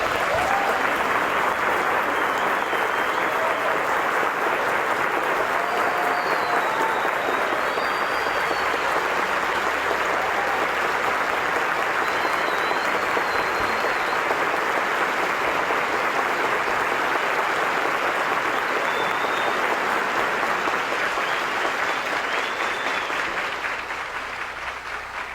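Graduates at a graduation ceremony applaud their families, a long, dense, sustained crowd ovation in a large hall that fades slightly at the end.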